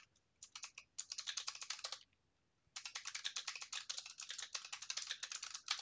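Fast clattering keystrokes on a computer keyboard, heard close and quiet in two bursts split by a short pause.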